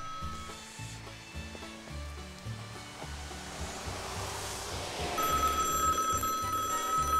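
A telephone rings in a repeated pattern of short bursts, fairly faint under a steady whooshing background that grows louder toward the end.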